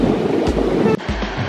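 Ocean surf rolling onto a Malibu beach, a steady broad wash of waves with wind buffeting the microphone, loud and continuous for a moment.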